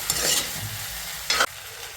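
Chicken fries with masala in a pan for Til Chicken, an Assamese dish, in a close, steady sizzle broken by two brisk scraping stirs, one at the start and one near the end.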